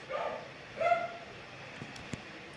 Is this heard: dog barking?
yes